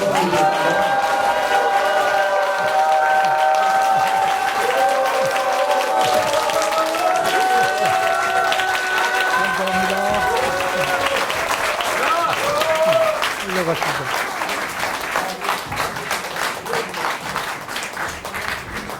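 A concert-hall audience gives big applause to welcome two performers, a dense, loud clapping that runs for the whole stretch, with sustained musical tones and voices over it early on before the clapping thins out toward the end.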